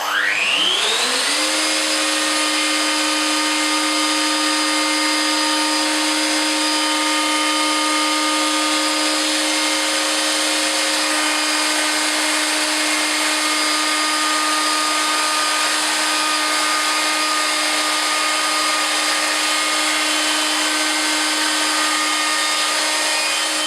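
Festool OF 2200 plunge router with a beading cutter spinning up to a high steady whine and running loud and close without a break, no voices over it.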